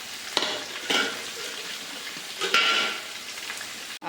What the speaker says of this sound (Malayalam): ചൂടായ എണ്ണയിലേക്ക് കടുക് ഉലുവയും കൂടെ ഇട്ട് പൊട്ടിക്കുന്നു